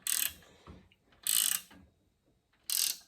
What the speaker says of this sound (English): I always get these ratchet wrenches backwards.